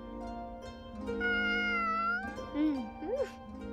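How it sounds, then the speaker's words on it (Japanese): A pet cat wearing a collar meows several times in Sword Art Online Alicization Lycoris, the calls rising and falling close up, with character voices in the game talking around them. "首輪をしているということは飼い猫か。"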